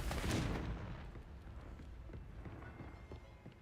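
Confringo fire spell cast in the video game Hogwarts Legacy, a loud blasting burst at the start that fades into a rumbling tail with faint scattered impacts.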